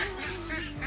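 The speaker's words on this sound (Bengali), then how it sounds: "আমাদের হাঁসগুলো খুবই জ্বালাতন করছে।" Domestic ducks by a village pond give one short, nasal quack that is honk-like and fairly close.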